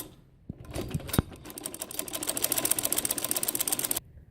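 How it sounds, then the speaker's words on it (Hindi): Sewing machine stitching the shoulder seam of a gharara kurti, a fast continuous run of needle strokes lasting a few seconds after a couple of sharp handling knocks, close and fairly quiet, then stopping abruptly. "मैं शोल्डर को सिलाई लगा रही हूँ।"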